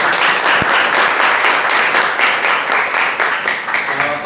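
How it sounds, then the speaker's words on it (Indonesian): A classroom full of junior high school students claps steadily, a dense and loud patter of hands that carries on without pause. "Luar biasa. Tepuk tangan."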